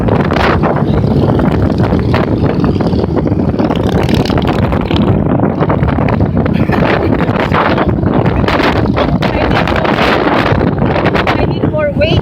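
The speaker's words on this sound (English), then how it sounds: "But the wind." Strong wind buffets the microphone at an annual motorcycle toy run, a loud, constant rumbling roar that fills the whole stretch.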